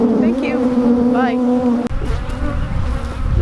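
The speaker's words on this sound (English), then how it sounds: "Yeah, we still have tons of bees on us." Honey bees buzz loudly and close around beekeepers, with swooping pitch shifts as individual bees pass a microphone, then a brief knock and continued dense buzzing.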